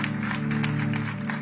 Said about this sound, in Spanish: Denle un aplauso fuerte a Cristo porque Él es bueno.